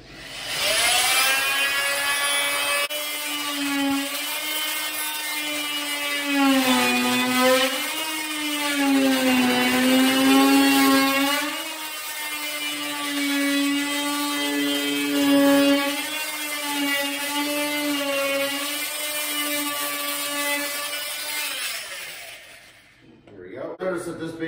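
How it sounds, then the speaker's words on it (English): An oscillating multi-tool trims a wooden baseboard with a loud, high buzzing whine, close up and steady for about twenty seconds. The pitch dips and rises as the blade bites into the wood, then the tool stops. "we're going to take our nice oscillating tool, and we're going to make an attempt to trim this baseboard out here"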